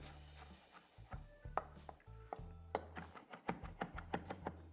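A knife roughly chopping flat-leaf parsley on a board, a run of sharp, close taps that starts irregular and quickens into a steady rhythm, loud against a quiet background.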